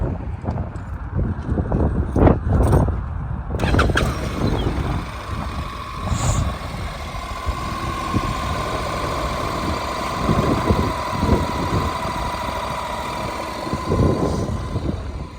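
A Honda NC700X DCT motorcycle engine, with 36,000 km on it, idles with a steady, rumbling drone close by, and a few louder knocks and clatters come early on.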